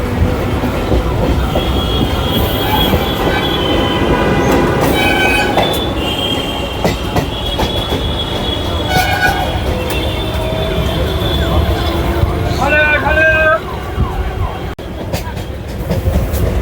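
A Kolkata local train runs between Sealdah and Howrah with steady rumbling wheels and carriage rattle throughout, wheel squeals rising here and there, a horn-like tone near the end, and faint voices in the background.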